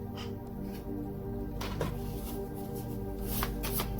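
Tarot message cards being shuffled by hand, a close soft riffling and sliding with a few sharper flicks, running continuously over a faint background hum, no talking.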